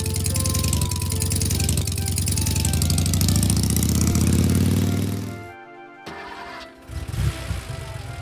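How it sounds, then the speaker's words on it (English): A loud police motorbike engine drones and revs, dropping off abruptly, then sputters back with a lower rumble. "Police bike"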